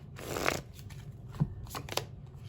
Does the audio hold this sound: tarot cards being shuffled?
yes